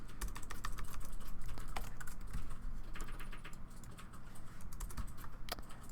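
Rapid typing on a computer keyboard, dense close clicks in continuous bursts with brief pauses, steady and alone without speech.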